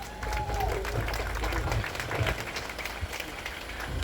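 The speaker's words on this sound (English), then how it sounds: "Get a round of applause for Paul" Applause from a crowd at an outdoor protest rally welcoming Paul from the Epping Group as he comes up to speak, a steady wash of clapping with scattered voices mixed in throughout.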